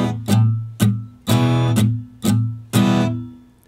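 Acoustic guitar strummed with alternating down and up strokes, a steady pattern of six crisp strums mixing short muted chucks with fuller ringing chords, close and unaccompanied.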